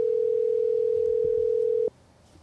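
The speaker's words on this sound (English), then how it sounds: "it's ringing." A telephone rings on an outgoing call as a single long, steady ringback tone that holds for almost two seconds and then cuts off abruptly into quiet line noise.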